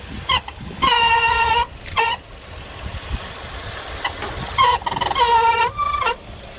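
A running car engine's drive belt, wetted with sprayed water, slips and lets out several loud, harsh squealing bursts in an irregular rhythm. Low engine rumble continues between the bursts.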